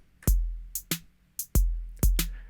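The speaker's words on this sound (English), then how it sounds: "this is a basic beat, just 8th notes. And listen to the hi-hat." A sparse drum pattern of kick and snare hits with quick hi-hat strokes in an uneven, swung rhythm, several beats over a couple of seconds.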